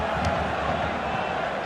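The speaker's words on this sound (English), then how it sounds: "And the crowd really enjoying it." Stadium crowd in FIFA 16 at a Champions League semi-final, a dense, steady roar of cheering filling the whole moment.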